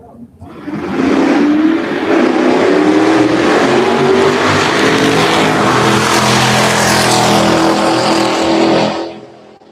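A drag race car at a Turn & Burn event roars off the line and accelerates hard down the strip, a loud sustained engine howl lasting most of the run before fading, with a commentator talking over it.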